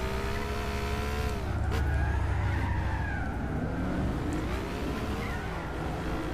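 In Gran Turismo 6, a mid-engine rear-wheel-drive Cizeta V16 T skids through a race, tires squealing in long wavering tones over a loud, steady engine roar, with no talking.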